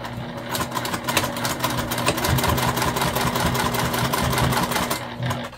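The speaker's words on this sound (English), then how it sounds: "we're just gonna sew this on at a slightly smaller than 1/4 inch seam allowance" Sewing machine stitching a faux leather zipper pouch, a steady rapid mechanical chatter of the needle running continuously at close range, starting and stopping briefly at the ends, with no talk.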